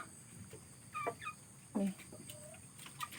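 Chickens cluck softly while eating paddy rice outdoors, a few short clucks and chirps rising over quiet background at moderate distance, with brief low voices.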